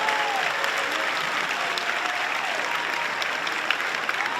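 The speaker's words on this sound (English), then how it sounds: "Please everyone give a round of applause for yourselves and for your family." A large graduation crowd at a college commencement ceremony in Santa Cruz applauds steadily, dense continuous clapping filling the hall without pause.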